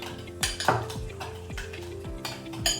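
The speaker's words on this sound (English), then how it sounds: "Give that a good stir." A spoon stirs a yogurt and olive oil marinade for tandoori-style lamb chops in a bowl, making rhythmic close scraping sweeps and light clinks against the bowl, roughly one stroke every half second, with no talk.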